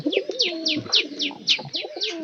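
A pigeon in a loft where pairs are laying eggs coos nearby in a quick repeated series, with several sharp chirps over the low throaty cooing.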